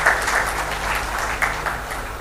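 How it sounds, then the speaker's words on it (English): A conference audience at an AI healthcare summit applauds a speaker, a steady, moderately loud wash of clapping with a few sharper claps standing out, filling the hall with no voices over it. "Let's have a big round of applause for him as well."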